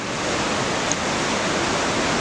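Ocean surf breaking at a beach surf spot near Anglet, a steady broadband wash of waves rolling in continuously, fairly loud and close, with no voices over it.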